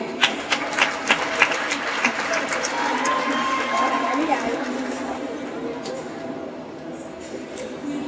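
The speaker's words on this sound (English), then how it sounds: "keep the applause going" Applause and cheering from the audience at a Kingston Technical High School graduation ceremony, a dense steady wash of clapping that swells early and slowly thins, with crowd noise and a few sharper claps up front.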